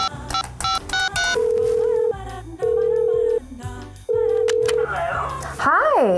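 A telephone number is dialed, producing a series of electronic keypad tones and sustained beeps in an uneven rhythm, close and loud, with short gaps between tones.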